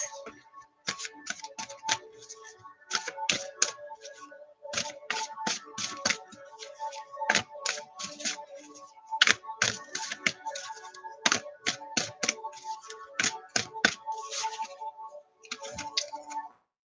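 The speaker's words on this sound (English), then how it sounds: "let's go ahead and pull a love card for my Leos" Tarot cards shuffled and pulled for a reading, a run of crisp, rapid papery snaps and taps in close bursts with short pauses between, near and fairly loud, with no talking.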